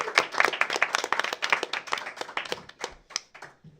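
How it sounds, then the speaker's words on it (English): An audience claps for players at the close of a streamed game session, a crisp burst of individual hand claps that is dense at first and thins out toward the end, close and moderately loud with no talk over it. "A big round of applause for our players."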